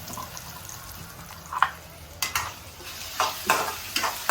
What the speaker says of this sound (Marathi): बघा, आता टाकते मी फक्त मिरची लसूण ठेचून घेतला.